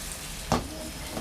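A thick fish fillet in a smoking-hot pan gives a brief loud sizzling burst as the first part of a ginger, garlic, basil and rice wine sauce hits it, then a quieter crackle.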